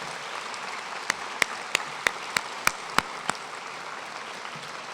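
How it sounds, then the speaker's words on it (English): Audience applause for faculty at a university convocation, a soft steady patter of many hands with a series of sharp, evenly spaced louder claps near the front. "Please join me in a round of applause for our faculty"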